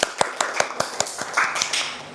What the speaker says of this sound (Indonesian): Beri tepuk tangan buat Mbak Arina